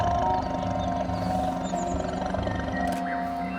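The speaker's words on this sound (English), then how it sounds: "A tiger's warning growl." A tiger in the hunting game theHunter: Call of the Wild gives a deep, rumbling warning growl that carries steadily for several seconds, loud and close, layered over ambient jungle wildlife.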